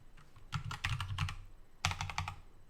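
Bursts of rapid clicking on a computer keyboard, a flurry of random keys, pausing briefly before another quick run of taps; close and clear with no talking.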